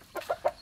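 A farm chicken gives three quick, close clucks in a short burst, fairly loud against a quiet background.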